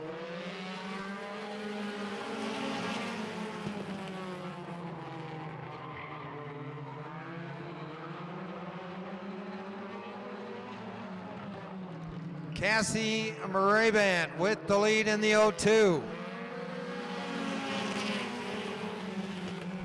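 Dirt-track race cars start a feature race at Jefferson, a dense roar of several engines rising and falling together. A brief loud burst of a nearby car passing comes near the end, with a commentator talking over it.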